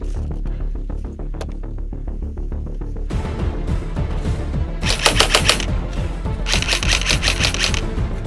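Airsoft gunfire during a team skirmish: rapid bursts of automatic fire, sporadic at first and then two dense, loud rattling volleys, close to the mic, with no talk.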